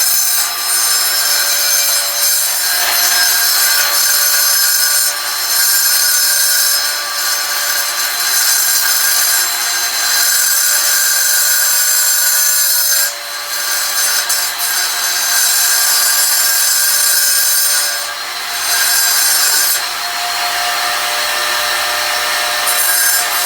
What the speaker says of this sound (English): I'll just go along the edge and I'll grind that edge down.